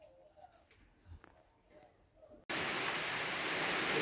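Heavy rain suddenly pours down in a rose garden. A steady, loud hiss drowns out the faint birdsong and cooing heard just before.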